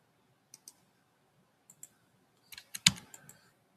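Mouse clicks and computer keyboard keystrokes come in sparse, close pairs and short bursts against near silence, ending in a louder cluster of taps.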